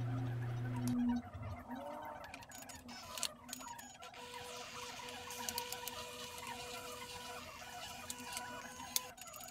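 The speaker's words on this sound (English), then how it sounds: "once it starts receiving, you can place the handset back on the fax machine" A Brother FAX575 fax machine receives a fax in manual mode: a brief steady tone opens, then a continuous close mechanical whirr with light ticking as the page feeds through, with no talking.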